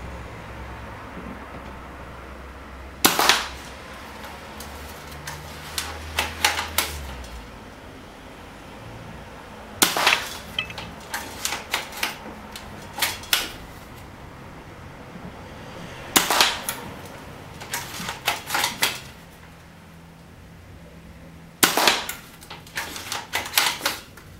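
A Maruzen APS2SV airsoft rifle shoots 0.43 g BBs at a target 50 feet away during an accuracy test. Four groups of sharp snapping shots, each a quick string of several, are spaced about six seconds apart against a quiet outdoor background.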